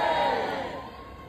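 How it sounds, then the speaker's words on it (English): Dense crowd noise at a Palestine protest rally, a broad roar of many voices shouting together, loud at first and easing slightly over a second. "This is one of the largest crowds that we've seen."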